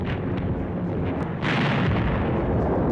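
A German 88mm anti-aircraft gun fires a shrapnel shell: a deep, rumbling boom hits midway and rolls on, over a dense low background of distant battle noise.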